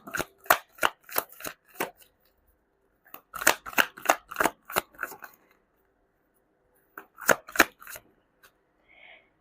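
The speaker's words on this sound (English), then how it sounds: "But let's pull up another card first." Tarot cards shuffled by hand in close, crisp bursts of rapid riffling snaps, three clusters separated by short pauses, with no talking.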